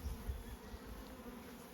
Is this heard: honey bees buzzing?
yes